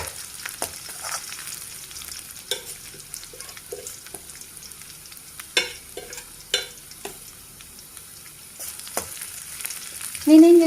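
Garlic fries in a pan with a soft, low sizzle under a string of sharp clicks and scraping knocks from stirring, with a louder clatter and squeak at the close.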